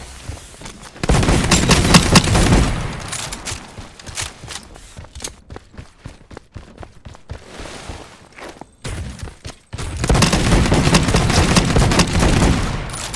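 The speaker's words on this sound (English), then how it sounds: "I'm loving this auto shotty." Rapid automatic shotgun blasts from the DEADROP video game in two loud, dense bursts, with scattered sharper shots and lighter clatter in the quieter middle stretch and no talking.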